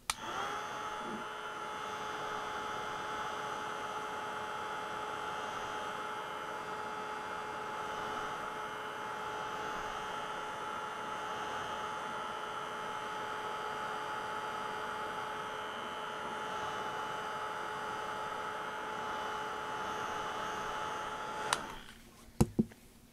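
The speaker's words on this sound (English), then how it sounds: "By turning it over and blow drying it, it should flatten it out." A heat dryer blows steadily on a wet paper background, a constant whirring hum that runs close and unbroken for over twenty seconds before cutting off with a few clicks and handling knocks.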